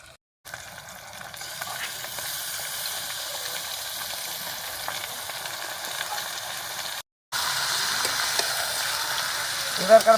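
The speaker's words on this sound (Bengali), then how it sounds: "মাংসটা হালকা করে ভেজে নেব।" Chicken meat fries with onion and chilli at a night picnic, giving a continuous moderately loud sizzle that briefly cuts out and returns stronger, ending with a couple of sharp clinks.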